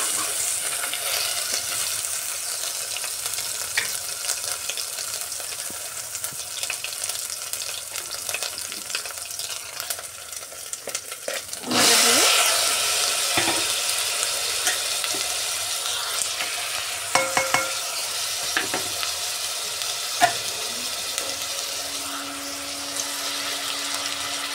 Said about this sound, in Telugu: బాగా ఒక 2 నిమిషాలు బాగా ఫ్రై చేయాలి.